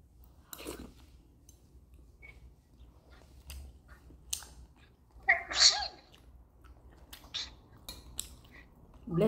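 A sharp sneeze bursts out in a quiet room during a dinner of tilapia and vegetables, surrounded by small clinks and taps like cutlery against dishes.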